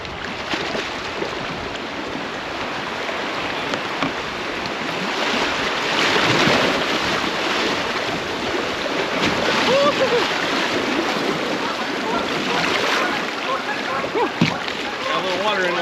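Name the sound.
small river rapids splashing against a fishing boat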